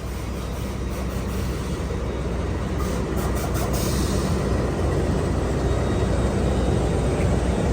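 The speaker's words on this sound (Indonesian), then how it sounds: "Yang akan masuk di jalur 3 adalah kereta api Argo Semeru" The Argo Semeru passenger train rolls into track 3 at a station, a loud, steady roar of wheels and carriages that holds evenly throughout, with faint clicking high above.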